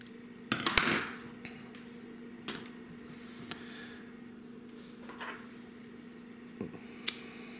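Paracord 550 ends being trimmed to about a quarter inch with scissors or a blade, giving a few sharp snips and clicks spread apart over a quiet background, the loudest cluster near the start and another crisp cut near the end.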